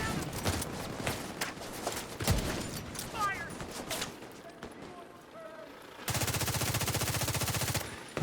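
Rapid light machine gun fire in a video game, a loose run of bursts with a dense sustained stream near the end, mixed with footsteps and other game noise, and a voice talking over parts of it.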